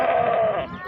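A goat bleats loudly and close at a busy goat market, one sustained wavering cry that trails off after under a second.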